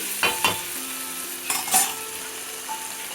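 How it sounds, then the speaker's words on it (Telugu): Masala and chili powder sizzle in a hot pan as they are stirred, with a few sharp scraping clinks of a spoon against the metal over a steady frying hiss. "ఇప్పుడు దీంతో పాటు ఈ మసాలా, కారము ఇవన్నీ మంచిగా కలిసి ఉడుకుతాయి."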